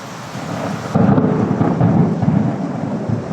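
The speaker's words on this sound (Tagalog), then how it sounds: "Lakas na naman ang ulan" Heavy rain pouring steadily, with a deep low rumble underneath; loud and continuous, growing stronger after the first second.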